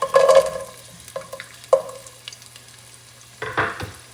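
Chorizo goes into a pan of garlic over medium-high heat, giving bursts of stirring and frying clatter followed by a quieter sizzle, close and without voices.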